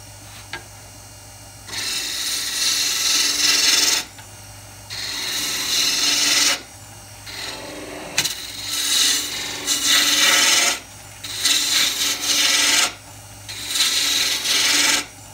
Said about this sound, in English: I'm going to start by wasting away some of this wood, get it down to my finial size